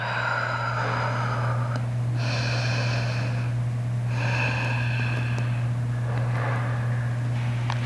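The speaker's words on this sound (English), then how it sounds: "Inhale and exhale it out." Slow, deep breaths during an aerial yoga restorative class, with audible inhales and exhales in separate bursts over a steady low hum.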